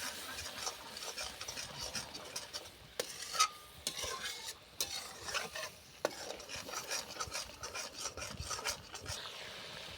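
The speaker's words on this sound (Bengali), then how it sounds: "আমি স্বাদ মতো লবণটা দেব, দিয়ে নেড়ে দেব" A spatula scraping and stirring salt through spices in a pan, a steady soft rasp with faint sizzle and a few sharper knocks against the metal, close and fairly quiet.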